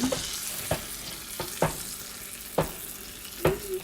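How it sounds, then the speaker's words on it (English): Steak sizzling in a pan while basted with butter and oil, a steady frying hiss broken by five sharp spoon clinks and splashes at roughly even intervals. "See how I just continue to baste it in the butter and that oil."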